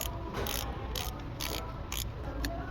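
A Craftsman OverDrive 72-tooth low-profile ratchet clicks as it turns, a quiet run of fine rapid ratcheting bursts in short repeated strokes, heard up close against a steady store background hum.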